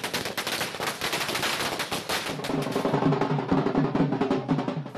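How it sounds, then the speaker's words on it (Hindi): Dense, rapid strings of firecrackers bursting in a street celebration, sharp overlapping cracks going off continuously at moderate distance with no speech. "शहर शहर पटाखे जल रहे हैं।"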